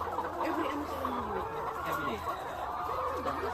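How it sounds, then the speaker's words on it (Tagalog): Chickens clucking and crowing in a busy, continuous chorus inside a small poultry house, close by, with overlapping calls throughout. "ang daming mga manok"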